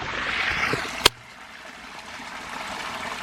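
Creek water flowing steadily in a wooded area near a meadow, a continuous soft rushing hiss with one sharp click about a third of the way through.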